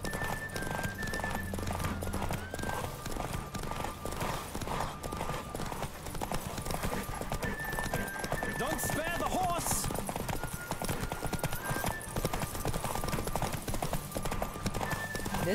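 A horse gallops fast in The Witcher 3: Wild Hunt, hooves drumming steadily throughout under game music and effects, with an occasional whinny and a person talking over it.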